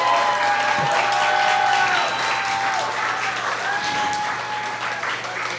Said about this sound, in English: So big round of applause and thanks to Vievee.